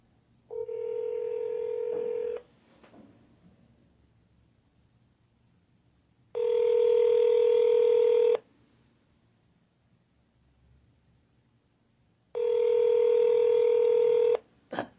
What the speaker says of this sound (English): Thank you for calling the Washington, D.C. office of United States Senator Rand Paul